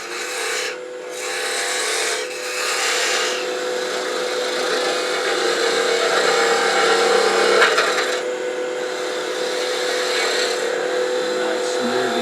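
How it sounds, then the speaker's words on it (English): Chatter tool making a smoothing cut on wood, likely a turned piece on a lathe, giving a steady close scraping and rasping texture that continues throughout with a few short breaks. "Nice smoothing cut here."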